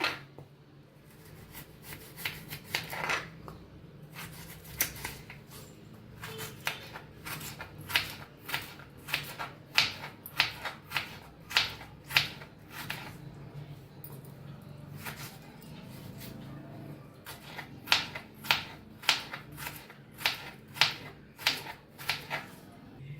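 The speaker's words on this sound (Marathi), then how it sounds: "गाजर बी कापून घेऊया बारीक" Carrots being finely chopped with a knife on a board, a long run of quick, crisp, evenly spaced taps that pause briefly and then resume, close and clear at a fairly soft level.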